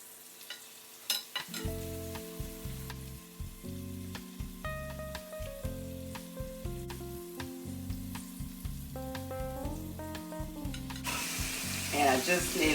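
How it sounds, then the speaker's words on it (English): Chicken pieces dusted in flour sizzle and crackle as they brown in hot oil, with a steady frying hiss punctuated by sharper pops and occasional stirring, close and alone without talk. "I'm going to let this brown on both sides for about 45 minutes, and then I'll take it out of the oil"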